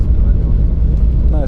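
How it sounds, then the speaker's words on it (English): A Transavia Boeing 737 lands at Copenhagen Airport, heard from inside the cabin as a loud, deep rumbling roar of touchdown and rollout, with a voice briefly heard near the end. "Nice landing."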